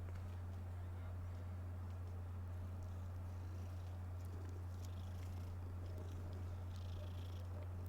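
A cat in Hogwarts Legacy purrs steadily and close up, a continuous low rumbling throb with no break, quiet overall and with no one speaking.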